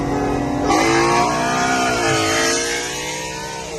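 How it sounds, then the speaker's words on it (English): A Ford Mustang Mach 1 (S550) tears along back roads, its engine roaring loud and close with a steady, sustained note that climbs in pitch as it accelerates. "I'll throw in a clip of the Mach 1 of us ripping this thing on the back roads."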